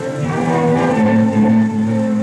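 Cattle moo in a loud, drawn-out low bellow close by, with a second overlapping moo, in a 1945 Canadian film about relief supplies for postwar Europe.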